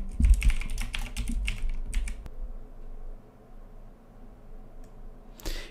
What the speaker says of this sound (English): So we're gonna type one of my other email addresses.